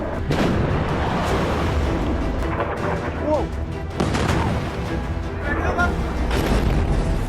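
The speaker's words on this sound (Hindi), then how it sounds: "ईरान की मिसाइल कैसे आई और कैसे इजराइल की एयर डिफेंस मिसाइल को चकमा देकर अपने टारगेट पर जाकर फटी" An Iranian missile explodes in news footage, a chain of heavy booms and rumbling blasts with crashing debris, loud and continuous, with voices mixed in underneath.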